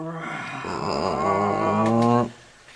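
A low, drawn-out growl rumbles through a castle interior at close range, swelling for about two seconds before cutting off abruptly into quiet room tone.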